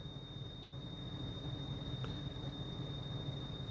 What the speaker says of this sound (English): I do apologise for the background noise, but I am stinking hot, and I have my air conditioner in the background.